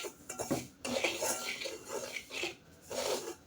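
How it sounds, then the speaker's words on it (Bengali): Semolina dry-roasting in a pan over a low flame, stirred with a spoon that scrapes and clinks against the metal in quiet, uneven strokes. "এখন সুজিটা নেড়ে চেড়ে কিছুক্ষণ ভেজে নিব চুলার উপর"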